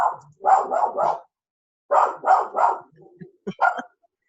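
Dogs bark in two quick rapid-fire volleys of three, loud and near, followed by a few softer yips and whines.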